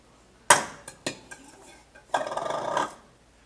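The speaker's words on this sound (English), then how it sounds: "we're gonna take our large bowl and we are going to put in our flour, sugar" Flour and sugar poured into a large bowl for a chocolate cake, heard as a sharp clatter of a scoop or utensil against the bowl, a few lighter knocks, then a longer gritty rustle of dry ingredients sliding in.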